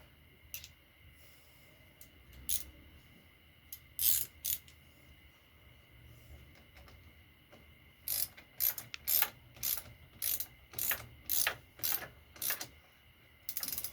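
Ratchet wrench tightening a 12 mm bolt on a soft lead car battery clamp, bursts of rapid clicking, sparse at first then a regular run of short ratchet strokes close by, with no talk.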